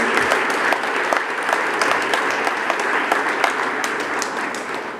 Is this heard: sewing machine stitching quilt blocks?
no